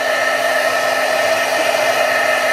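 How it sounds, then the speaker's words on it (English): A heat tool blows hot air to dry freshly stamped ink on canvas, giving a loud, steady, continuous whir with no talking. "take the heat tool and dry this up"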